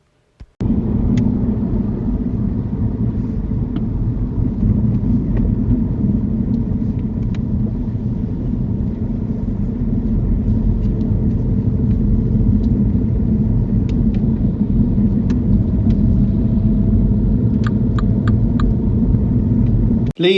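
A learner driver's car moves onto a roundabout during a UK mock driving test, heard from inside as a steady, loud low engine and road rumble lasting throughout, with a few faint clicks and no talking.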